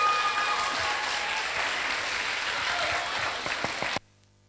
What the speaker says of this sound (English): Could you all clap for Mr.